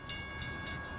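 Trains roll along tracks in Chicago Ridge, giving a brief, faint, steady rumble with soft rhythmic clatter.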